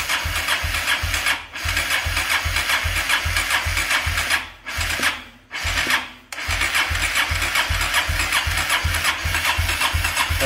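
A modified 160 motorcycle bored out to 205cc and leaking fuel cranks and then runs in a steady, loud, chugging idle, with a few brief dropouts where the engine note stumbles.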